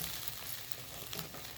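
Spice masala of cumin powder, coriander powder and green chilli fries in a pan, giving a steady, soft hiss of sizzling throughout with no talking.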